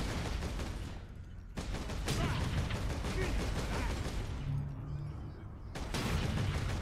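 Sniper rifle fire in the video game Warhammer 40K: Space Marine: a few sharp, loud shots stand out over a dense, continuous backdrop of in-game combat noise.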